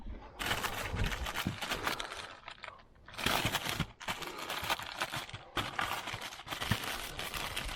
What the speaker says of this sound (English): So let me get it out the bag.